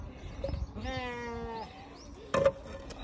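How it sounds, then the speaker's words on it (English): Sheep and goats on a farm in Jeju let out a drawn-out bleat, with shorter calls and small rustles around it, close and moderately loud. "Oh, and these are goats. Those are sheep,"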